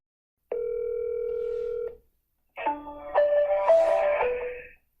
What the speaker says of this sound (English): so I'll call that number now.